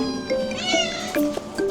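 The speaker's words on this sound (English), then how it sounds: "We found a house with many cats, and it looks like they are breeding the cats." Several caged cats and a small kitten meow close by in a house where cats are bred, a quick run of overlapping plaintive mews and cries over a couple of seconds.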